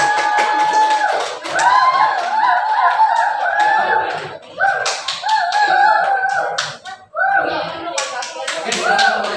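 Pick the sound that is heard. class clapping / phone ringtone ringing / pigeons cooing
class clapping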